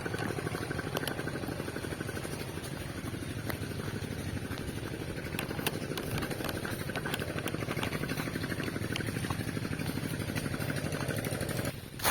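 A motor runs at a rice field during broadcast seeding, giving off a continuous, even engine drone with a steady mechanical pulse for the full stretch.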